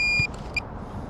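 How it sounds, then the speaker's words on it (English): A drone gives a high electronic beep, then a second shorter beep a moment later, over a low outdoor rumble in Brentford, London. "Beeping started, so"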